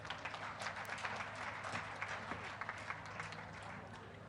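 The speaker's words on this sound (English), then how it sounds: "Let's clap hands for UN family." Audience clapping at a World AIDS Day event with government officials, a steady patter of hands heard faintly and at a distance in a large hall.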